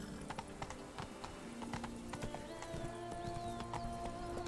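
Roach, Geralt's horse in the video game Witcher 3, clip-clops at a steady walking rhythm with a brief whinny, all quiet and soft in the background.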